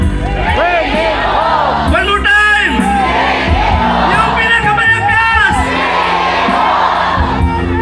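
An audience shouts together in unison, loud and close, with repeated massed bellows and cheers forming a continuous roar.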